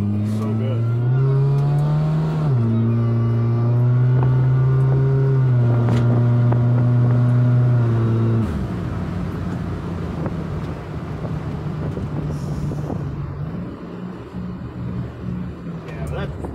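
A car fitted with a DIY Speeduino-based transmission controller running a Toyota A340E-type automatic drives along, its engine droning loud and steady, pitch climbing then dropping as gears shift, with wind noise and a voice talking over the latter part.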